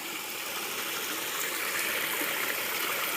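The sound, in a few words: Pipe Spring stream water flowing along the Appalachian Trail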